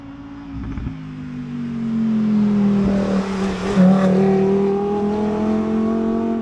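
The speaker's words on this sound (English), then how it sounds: "Get a lot of traffic through here." Cars driving past on a rural road near Stanhope, their engine drone swelling and fading as each passes close by at moderate volume, with no voices.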